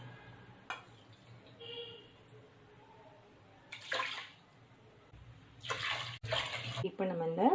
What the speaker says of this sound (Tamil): 2 கப் அரிசிக்கு 4 கப் தண்ணி ஊற்றிக்கோங்க.